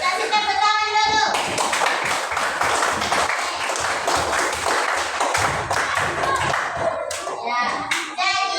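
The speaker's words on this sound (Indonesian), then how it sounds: "Kasih tepuk tangan dulu" Students in a classroom clap together in a lively burst of hand claps after a brief spoken prompt, close and loud, with children's voices and talk rising again near the end.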